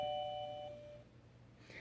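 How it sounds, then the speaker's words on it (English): A wireless video doorbell chime rings at its loudest setting, giving a clear two-tone electronic ding-dong that sounds close and then fades away over quiet room hum. "The Magic wireless doorbell chime."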